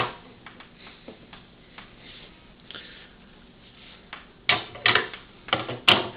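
Scissors cut through strands of handmade doll hair, giving a few crisp, close snips near the end after a quiet stretch of faint handling sounds.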